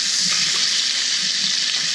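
Trout fillets sizzle and crackle steadily in a hot frying pan, a constant bright hiss of frying oil close up with faint low bubbling beneath, no voices.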